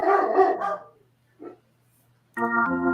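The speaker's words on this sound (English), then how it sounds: "Sound like your dog this time" A dog barks at close range: a burst of rapid barks, a short gap with a faint yip, then another loud bark, alone without talk.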